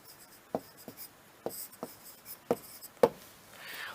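A teacher writes on a board during a Hindi history lesson, with sharp taps and scratchy strokes at irregular intervals; about six distinct marks stand out over a quiet room.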